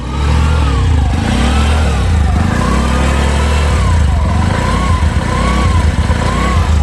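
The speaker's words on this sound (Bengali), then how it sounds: "হ্যাঁ, এই যে দেখেন ইঞ্জিনের সাউন্ড" The engine of a Bajaj CNG auto-rickshaw runs loud and close in a steady idle, with a throbbing low rumble and a few gentle rises in pitch.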